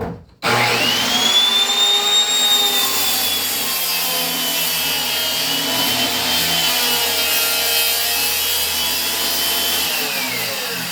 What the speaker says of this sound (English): I fasten the two together first, and I'm going to make the dado for both sides simultaneously